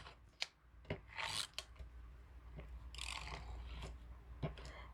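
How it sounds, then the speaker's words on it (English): Tape pulled and pressed onto a repurposed greeting card, heard as faint rasping, rubbing and crackling strips in short bursts over a low hum, close and quiet with no talking. "So I'm just going to use some of my tape here"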